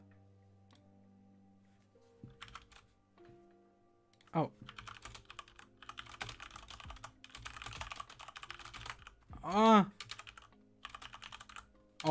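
Rapid keystrokes clatter on a computer keyboard during a Nitro Type typing race, fast irregular bursts of clicks close to the mic, broken by short pauses, with a brief exclamation from a voice.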